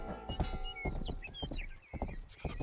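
Horse hooves clip-clop in the video game Rustler, a run of sharp, close hoof knocks in an uneven trotting rhythm over a busy game background.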